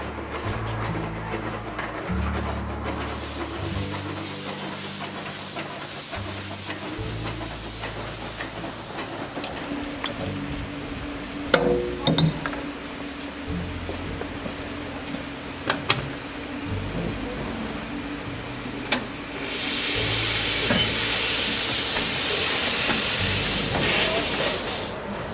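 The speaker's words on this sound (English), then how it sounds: "the fantastic narrow gauge railway, where you can take this for a short ride" A narrow gauge steam railway train runs at close range with rumbling, clattering wheels and hiss. Louder bursts of steam venting come near the end, and there is no speech.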